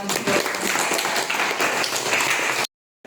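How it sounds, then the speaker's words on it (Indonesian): A class in a history lesson claps together, a brief burst of dense applause that cuts off abruptly into silence. "Oke, tepuk tangan."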